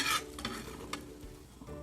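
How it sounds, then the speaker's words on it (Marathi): A paratha roasts in oil on a hot tava, giving a soft steady sizzle with a few brief scraping stirs, heard close and alone. "पराठ्याची खालची लेयर भाजून झाली की वरची लेयर पलटून भाजून घ्यायची"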